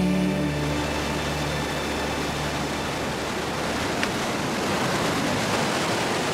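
Dense, constant roar of fast-flowing river water rushing through the Wadi Mujib canyon in Jordan, loud and close with a steady broadband wash and no voices.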